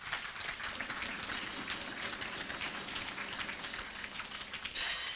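A graduation audience applauds the chief guest at the 18th KESRA ceremony, a steady mid-distance wash of many hands clapping at moderate volume from start to finish, with no talk over it.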